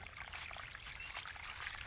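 A stream of water flows and trickles steadily nearby, a continuous soft splashing wash with no voices.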